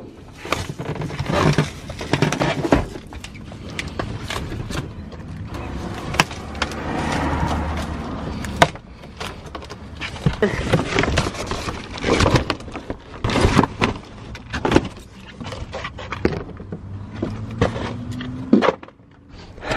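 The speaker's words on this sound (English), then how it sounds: "I'm gonna rip the headliner around this little square retention thing for the piece of the headliner" A Mustang's fabric headliner and its cardboard backing are torn out by hand inside the car, giving irregular ripping, tearing and crunching bursts with pauses between pulls.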